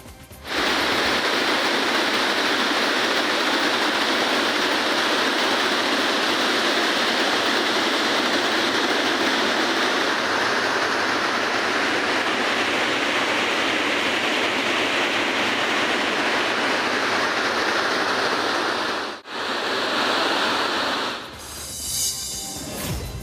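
Water from four crest gates of the Harangi reservoir surges into the river at about 5,000 cusecs. It makes a loud, steady, broadband roar that runs unbroken, with a brief dip near the end.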